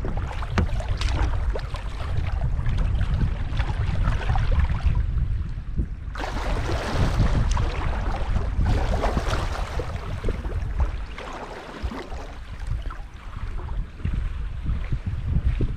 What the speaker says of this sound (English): Sun's gone in, the wind's come up, the clouds are gathering.